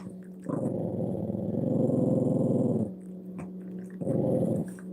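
A dog growls low and steadily at a cat seen outside a window, a long rumbling growl swelling for a couple of seconds, pausing, then returning in a shorter burst, close and fairly loud.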